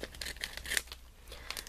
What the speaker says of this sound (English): And all I do is just take scissors and cut it up.